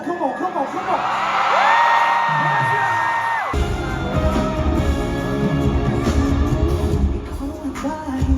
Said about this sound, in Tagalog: Lahat na nagpunta dito para magsaya, sumigaw ng sobrang lakas.